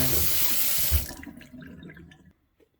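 Tap water gushing loudly into a sink or container, a steady broadband rush that lasts about a second before the flow thins to lighter trickling and drips, then fades out. Brass is being prepped for cleaning with detergent.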